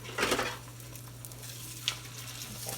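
Scrambled eggs hitting hot oil in a skillet with a brief loud sizzle and stir, then a soft steady frying hiss over a low hum, plus a single light clink.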